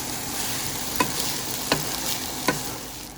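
Rice being stir-fried for bacon fried rice with fish sauce, a steady sizzle in a hot pan with three sharp scrape-and-toss clicks spaced about a second apart, close and fairly loud.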